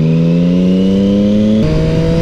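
Motorcycle accelerating on a loose gravel road, a loud, close engine drone rising steadily in pitch, then dropping briefly as it shifts gear and continuing, with no voices.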